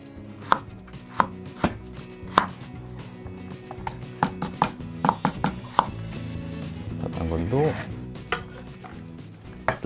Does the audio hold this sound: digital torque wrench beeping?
no